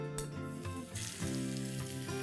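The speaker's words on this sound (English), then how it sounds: "simply fry the fish in oil for about 1 or 2 minutes on either side" Pomfret fish slices fry in about a quarter cup of hot oil over a medium flame, producing a continuous close sizzle and crackle alongside steady background music.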